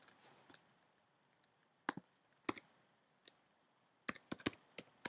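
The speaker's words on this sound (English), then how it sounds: "Sorry if my typing's a bit slow." Sparse keyboard typing in Minecraft 1.8 with the Dalek Mod, faint isolated clicks with pauses, then a quick burst of several keystrokes near the end, no voice.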